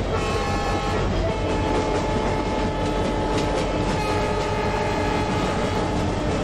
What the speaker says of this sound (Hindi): सामने से एक और ट्रेन आ रही है, ये फ्राइट ट्रेन है जहाँ तक मुझे लगता है